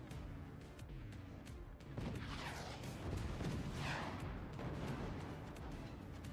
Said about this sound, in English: Where are those cannon shells going?